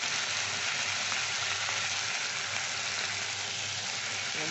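Grated ginger and garlic sizzle steadily in hot oil, a dense continuous frying hiss that stays even and close throughout with no talking, while an egg and cauliflower curry is being cooked.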